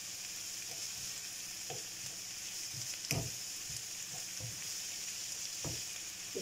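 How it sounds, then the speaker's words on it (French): Minced beef and onions sizzle steadily in a hot pan for a beef nem filling, a constant bright hiss broken by a handful of scraping stirs, the loudest near the middle, with no voices. "Je rajoute la viande hachée que je vais faire revenir avec les oignons."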